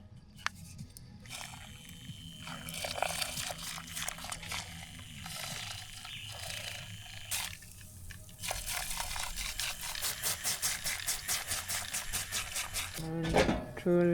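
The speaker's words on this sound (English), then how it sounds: "Whisk." Bone broth powder being whisked in a pot at a van camp, quick rapid metallic scraping strokes in repeated bursts, close and moderately loud, with a voice speaking early and a clatter near the end.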